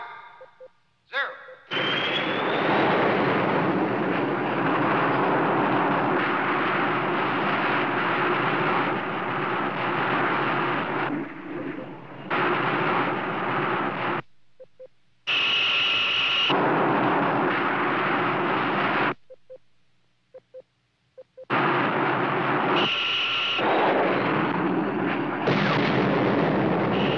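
Roaring rush of a Hunter-type missile launch in a 1958 film, loud sustained blasts broken by abrupt silences and cuts, with a high whistling tone in some stretches.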